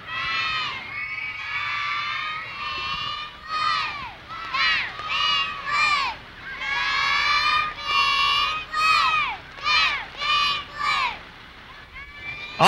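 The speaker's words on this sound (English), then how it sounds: "Y'all cheer a little bit for us." Young mini midget cheerleaders at a homecoming parade shout a rhythmic group cheer, loud and close, in repeated syllable bursts with short pauses between phrases.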